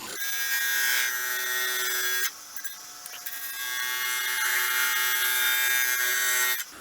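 Turning tools cut into a spinning blank of sticks and Total Boat resin on a lathe, giving a loud, close, continuous high whine that breaks briefly, rises back and stops abruptly.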